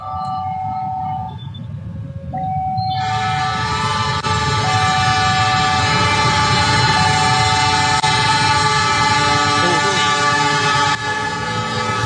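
A railway crossing warning signal rings steadily at a level crossing in Cimahi, West Java, while a train passes close and loud with a sustained horn and rumbling wheels over the continuous alarm.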